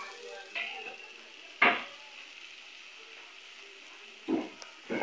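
Onions frying in oil in a pan while offal is cooked from scratch, with tomatoes, garlic and turmeric nearby: a steady soft sizzle throughout, broken by a few sharp clanks of a utensil stirring against the pan.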